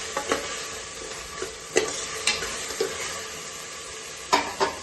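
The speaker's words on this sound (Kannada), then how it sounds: "ಇವಾಗೂ ಸ್ವಲ್ಪ ಹಸಿ ವಾಸನೆ ಎಲ್ಲ ಹೋಗೋ ತನಕ ಚೆನ್ನಾಗಿ ಹುರ್ಕೊಳ್ಬೇಕು" Ground masala paste frying in a pan for double beans rice bath, a low steady sizzle with repeated scraping strokes of a spoon stirring, close and without talk.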